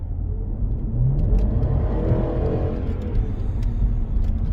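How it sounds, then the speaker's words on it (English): A car engine roars and revs as it accelerates, loud and close, with a rising throaty growl and no talking. "As soon as you push down the pedal, you hear it screaming, and the car literally takes off."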